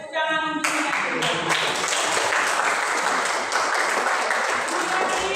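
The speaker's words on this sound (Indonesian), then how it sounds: "Tepuk tangan untuk kita semua" An audience at a closing session breaks into sustained applause, dense clapping that holds steady at close range after a brief tonal sound at the start.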